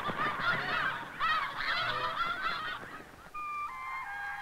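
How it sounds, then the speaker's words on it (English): A flock of snow geese honks loudly and steadily in a clamorous chorus of overlapping calls at Sand Lake, with a few clearer, drawn-out cries near the end. "The great flocks of snow geese stay around at Sand Lake until winter creeps down from the Canadian prairies."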